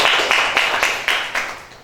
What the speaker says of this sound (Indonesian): Tepuk tangannya untuk dia.